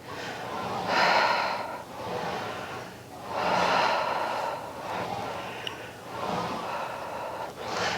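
Heavy, audible breaths during a Pilates reformer exercise, slow alternating exhales and inhales in a steady rhythm, close and fairly loud over a soft background.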